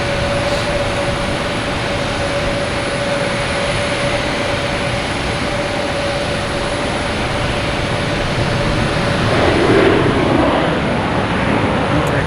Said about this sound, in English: Next arrive is a Delta 757 from LAX.